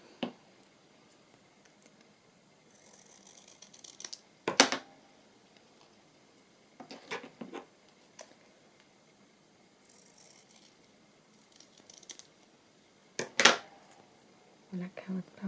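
Scissors cut paper for a Christmas craft with a few sharp snips and crisp paper rustles scattered through a quiet room, some quick cuts clustered together between pauses.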